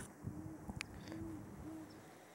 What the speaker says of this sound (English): You hear those hoot owls in the back?